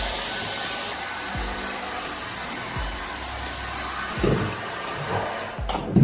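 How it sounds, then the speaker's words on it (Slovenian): A hair dryer blows steadily on stickers being heated during the restoration of a Tomos BT moped, a constant close whir with a few faint knocks and handling sounds near the end. "Zato bomo dejansko fenirali nalepke."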